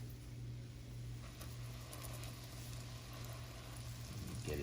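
Korean hotteok pancakes fry on a stove with a steady, soft hiss and sizzle of oil, a continuous quiet crackle under a low hum, with a brief louder clatter right at the end.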